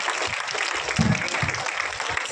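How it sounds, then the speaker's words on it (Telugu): Audience applause at a job fair event with an MLA present, a dense crackle of clapping from the crowd heard over a noisy hall with some indistinct voices mixed in. "చప్పట్లు కొడుతూనే ఉండండి"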